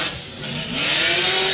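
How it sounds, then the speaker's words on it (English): A loud Formula Drift PRO2 qualifying car on the Atlanta track in 2018, its engine droning and climbing in pitch as it accelerates, growing louder and nearer over the last second with a hint of tire noise. "Very loud car, to be quite honest"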